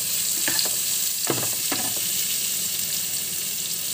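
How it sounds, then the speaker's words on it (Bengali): Half an onion frying in oil in a home kitchen pan, a steady loud sizzle with a few short scraping stirs near the start. "এই একটা পেঁয়াজের হাফ পেঁয়াজ, ওইটা লাল হতে ভাজা হতে দেবো"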